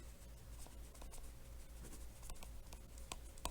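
A pen writes a definition by hand during a combinations math lesson, producing quiet, close scratching strokes with short taps in an irregular rhythm.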